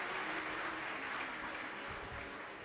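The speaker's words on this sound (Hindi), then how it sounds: "एक बार जोरदार ताली" Broadband, steady applause from a live religious gathering at a Shiv Mahapuran katha in Ausa, Latur, continuous and fairly full throughout, with no distinct voices on top.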